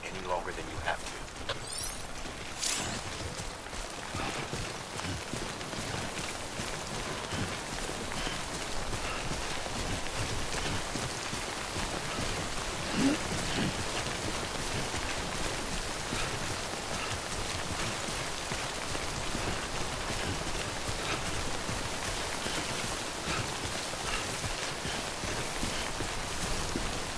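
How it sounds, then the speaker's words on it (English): Steady timefall rain in the video game Death Stranding, a dense continuous hiss of drops pattering on surfaces, with footsteps crunching and other game sounds layered in. "Don't stay out in the rain any longer than you have to."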